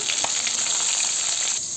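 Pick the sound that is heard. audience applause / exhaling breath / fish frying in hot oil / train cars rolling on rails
fish frying in hot oil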